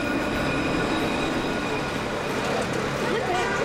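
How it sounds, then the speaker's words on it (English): A tram or train rolls along a Paris street with a steady, loud rumble and faint metallic wheel squeal throughout, with no break in the noise, and people talking underneath. "Trains on the street."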